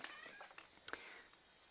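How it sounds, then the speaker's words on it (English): A cat lets out a few short, quiet meows while chasing a fly indoors, a brief soft run of calls heard alone. "sorry that's my cat"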